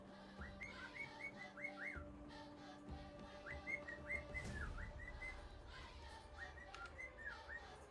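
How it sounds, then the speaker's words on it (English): Faint bird chirping and whistling comes through in three repeated quick phrases of chirps, heard from a distance over a steady low electrical hum. "Oh, this bird."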